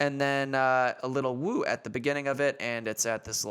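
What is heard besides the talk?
No distinct noise like a dog, phone or traffic.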